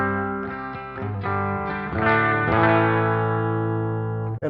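A Les Paul electric guitar plays clean tones through a Wampler Gearbox pedal: a string of picked notes and chords, each ringing out with long sustain, close and clear with no voices.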